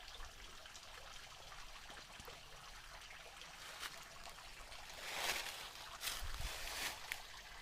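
Running water from a creek and waterfall where two springs converge on wooded acreage near Lebanon, Missouri, a steady soft trickle and rush that swells louder near the end, with no voices.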